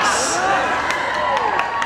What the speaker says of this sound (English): Let's cheer them on with a very loud "Go Knox" that they can hear all the way to Iowa.